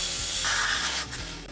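An angle grinder cutting through bamboo, a loud, close, harsh hissing grind that holds steady and then tapers off near the end, with no talk over it.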